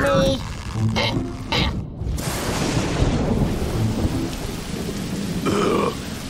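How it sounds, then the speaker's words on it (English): Heavy cartoon rain pours down steadily with rumbles of thunder, and voices speak over the downpour. "It's really raining cats and dogs."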